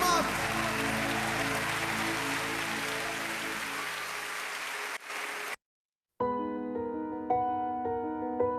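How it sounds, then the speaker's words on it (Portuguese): Church congregation applauding during a worship service, steady dense clapping for several seconds with a sustained tone underneath, then cut off by a brief silence before music resumes. "Aplauda Ele bem forte, amado."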